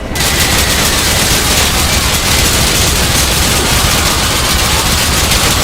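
Dense, continuous gunfire from the VR shooting game Onward, a loud unbroken barrage of overlapping shots and blasts with no pauses.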